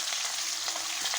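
Onions sizzle steadily in hot oil in a pan for an Egyptian maqluba, a continuous close frying hiss with small crackles and a few stirring scrapes near the end.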